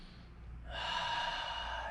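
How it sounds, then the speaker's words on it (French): Deep belly breath during a parent-and-child yoga session: a quiet low breath gives way to a steady, sustained airy rush of breathing, close and alone with no talk. "Une respiration du ventre."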